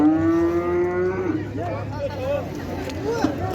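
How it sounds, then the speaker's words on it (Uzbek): Cattle at the Shofirkon livestock market low loudly and repeatedly in a long drawn-out moo up close, with further bellows and a murmur of the crowd behind. "Mollar, g'unojinchalar."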